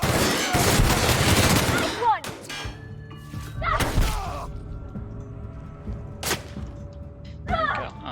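Gunfire in The Outer Worlds: a dense burst of rapid shots opens, followed by scattered single loud gunshots and impacts with ringing tails against quieter game ambience.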